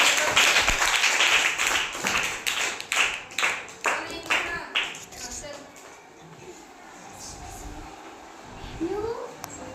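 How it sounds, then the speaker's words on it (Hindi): Children clap in a series of sharp, rhythmic bursts near the microphone, bunched at first, then thinning to scattered claps as kids' voices talk over them. "तालियां बजाओ।"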